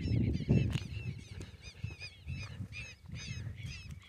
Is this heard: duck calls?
yes